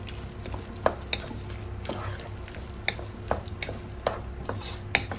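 Capsicum being stirred in a frying pan for creamy pasta, a soft sizzle under scraping and clinking of a utensil against the pan, with intermittent sharp taps at a moderate level.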